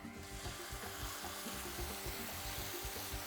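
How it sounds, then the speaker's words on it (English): Chopped tomatoes hit a hot pan and sizzle, a steady close frying hiss with faint scraping and stirring underneath, fairly quiet throughout with no talking. "Just be careful, there will be a bit of sizzle here."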